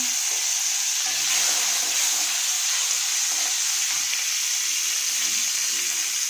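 Prawns sizzling in hot oil with black cumin, a steady close hiss of frying that carries on without a break, with faint stirring beneath it and no talk.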